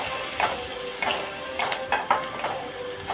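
Onions with chili powder and turmeric powder are stirred in a pan over a soft sizzle, with a spoon scraping in regular strokes roughly every half second.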